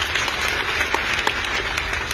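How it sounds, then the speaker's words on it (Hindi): Audience applause at an event, many people clapping at once in a full, continuous patter with some sharper individual claps standing out, and no talking on top. "इन दोनों जन के लिए एक बार जोरदार ताली चाहूंगी"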